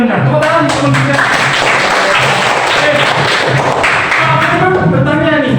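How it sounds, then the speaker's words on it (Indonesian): A classroom of students claps together after a pupil's competition win is announced, a dense, loud patter of hands mixed with chatter and thumps throughout. "Tepuk tangan, kemudian"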